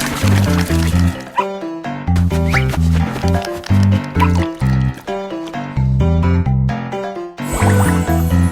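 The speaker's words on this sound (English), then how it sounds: "Pour the water into the bowl." Water is poured into a puppy's bowl in a cartoon, a light trickling fill heard under bouncy children's music, with a bright sparkle at the end.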